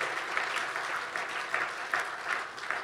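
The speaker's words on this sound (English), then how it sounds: "people will clap, I guarantee it for you, just how they clap now" A church congregation claps steadily during a Sunday service, a dense, even patter of many hands applauding at moderate distance, sustained throughout without pause.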